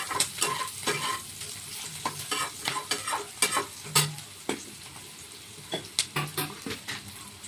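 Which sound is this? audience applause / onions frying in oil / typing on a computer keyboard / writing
onions frying in oil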